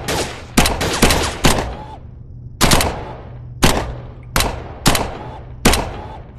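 Submachine gun bursts in the VR shooting game Gun Club VR, loud and close, with a quick cluster of rapid shots followed by single sharp bursts at uneven intervals, each with a short decaying tail.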